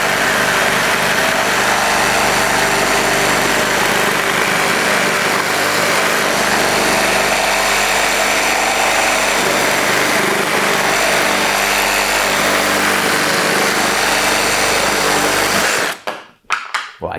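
A Kobalt XTR reciprocating saw on a 6 Ah battery, orbital action off, cuts with a loud, continuous high-pitched motor buzz for about sixteen seconds, then stops abruptly, leaving a few brief clunks.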